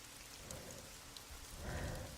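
Rain falls outside a car in a Fortnite game, a soft continuous patter heard from inside the car, even and gentle throughout with no talking.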